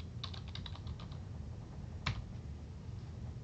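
Computer keyboard keys tapped to type a search word into a library journal search box: a quick burst of soft, faint keystrokes followed by one sharper key press, with no talking.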